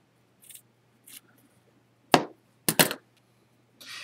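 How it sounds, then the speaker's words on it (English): Burlap fabric cut with scissors: a few faint snips early, then three loud, crisp cutting bursts close by, separated by short pauses, with no talking. "I'm just going to try to cut this as straight as I can"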